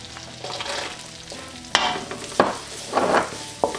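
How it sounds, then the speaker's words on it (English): Chopped onions frying in a pan, crackling and sizzling up close, with several loud spatula scrapes and bursts of hiss as they are stirred, no talking. "I want to fry these onions till they are transparent or translucent"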